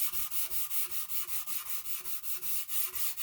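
A Scotch-Brite pad scuffs a plastic gun stock with quick, even back-and-forth strokes, roughly three per second. The rhythmic rubbing is close and fairly soft, with nothing else heard.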